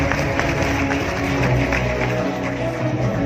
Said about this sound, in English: She deserves a rich, higher round of applause.